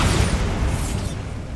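A Bombarda explosion spell detonates in the Hogwarts Legacy video game, a loud close boom with a sustained broadband rumble that fades slightly toward the end, with no voices.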